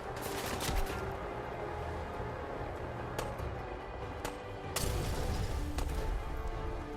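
Fallout 4 survival-mode firefight with companion Piper: steady gunfire crackles throughout, punctuated by a few sharper cracks and a heavier burst near the end, with no talking.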